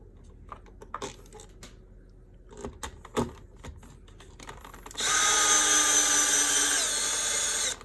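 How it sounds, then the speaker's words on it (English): A cordless power drill drives screws into an outlet box during electrical work beside a wall switch, a loud steady whir of about three seconds after some quiet handling clicks. "So now, drill time. Drive these guys home."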